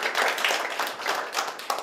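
Steady applause from the audience at a Seoul public forum on waste and recycling, dense overlapping claps filling the whole short stretch without speech.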